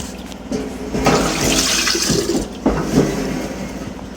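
Homemade butter being rinsed under running water, a steady broadband rush of flowing water with a couple of swells, fairly loud and close, no talking.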